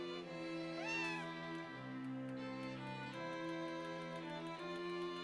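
An orange cat in the farming game Harvest Moon: A Wonderful Life gives one rising, tonal meow over steady background game music, loud and close.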